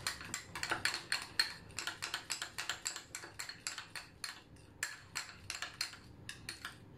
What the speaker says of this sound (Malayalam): ഈ ഓട്സും ഈ പഴത്തിന്റെ ഇതും വെച്ചിട്ട് നന്നായിട്ട് നമുക്ക് മിക്സ് ചെയ്തെടുക്കാം.